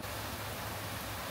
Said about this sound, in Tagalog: Currently, umuulan na dito sa Pagudpod.